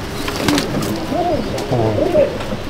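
Pigeons coo in a loft, with soft rolling calls rising and falling close by over a low room hum, several birds overlapping.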